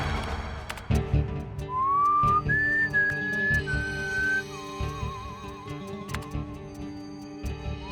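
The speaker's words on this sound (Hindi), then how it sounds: "माइक के सामने सीटी बजाएंगे" A person whistles a wavering tune into a microphone inside a small cabin during a whistle-matching test. The melody is clear and close, with long sliding notes and a rapid warbled passage over a steady low background hum.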